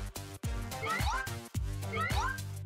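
An animated kitten gives repeated high, wavering meows over a busy backdrop of rhythmic thumping music, with two clear meow phrases standing out near the middle and end.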